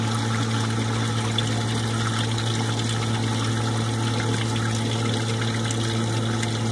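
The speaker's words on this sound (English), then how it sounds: "After 35 seconds, the pump will kick on, and that pushes the Greywater right out the purple pipe out to your landscaping" Greywater system pump pushing water out through a purple pipe to landscaping, a constant motor hum under a steady rush and trickle of flowing water, close and even with no talking.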